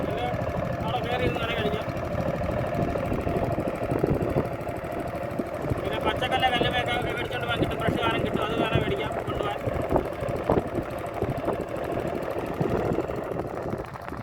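A motor boat carrying passengers to Sambranikodi island in Kollam runs steadily with a continuous engine drone and knocking rhythm, with people talking over it throughout.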